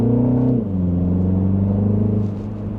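A 2025 Mini Cooper S Hardtop four-door with a four-cylinder engine, set to go-kart mode, accelerates gently from inside the cabin, its loud, steady low engine note shifting pitch as it climbs back up to speed.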